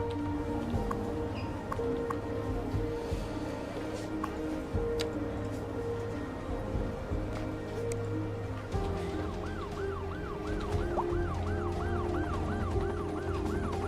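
Ambulance siren in the city-building game Cities: Skylines 2, a wailing, rising-and-falling tone over a steady hum of traffic and city ambience, growing clearer and more prominent toward the end, no talk.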